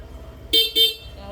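A vehicle horn sounds two short, loud honks in quick succession as a vehicle pulls up, with a faint engine hum beneath and no talk.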